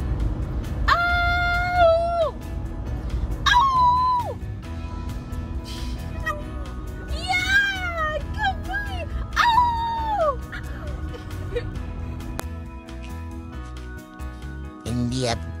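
A dog gives several drawn-out, wavering howls, each rising and falling over one to two seconds, close and fairly loud above a steady background of music.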